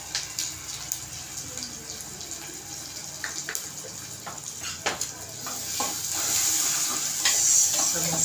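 Masala of tomato, turmeric and red chili powder roasts in a pan for matar rice, a continuous close sizzle with scattered spoon scrapes and clicks, building a little louder toward the end.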